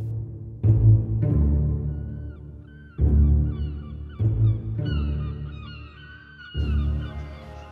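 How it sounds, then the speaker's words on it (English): Seagulls calling over a street in Rome, a series of loud, close, honking cries in repeated bursts, some overlapping, with no talking. "as the seagulls attack clueless passers-by"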